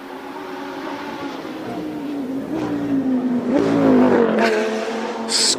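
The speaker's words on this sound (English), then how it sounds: "What can Ricky Giannacaro in the Lamborghini V10 do?" A Lamborghini Huracán Super Trofeo V10 race car climbing a hill course, its engine note rising loudly as it accelerates and shifts, passing close with a building roar.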